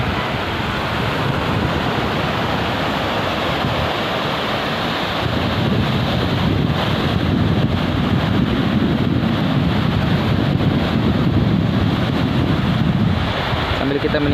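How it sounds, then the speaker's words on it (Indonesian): Surf breaking on a beach at Idi in East Aceh on an evening, a steady loud wash of waves under heavy wind rumbling against the microphone, continuous with no clear individual breakers. "ya kita nikmati saja deburan pantai di sore hari."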